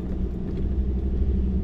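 A four-wheel-drive vehicle crawls off-road in two-wheel drive on a mountain track, its engine a loud, close, steady low rumble for a brief moment without speech.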